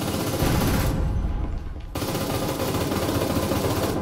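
Sustained automatic gunfire in the Breachers VR video game aboard a ship, loud and close, with a dense rattle of shots that briefly thins around the middle before resuming.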